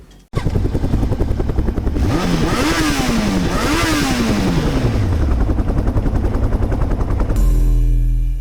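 A loud motorcycle engine roars and revs with rising and falling pitch in a movie trailer, layered over pounding dramatic music and heavy rhythmic thuds throughout.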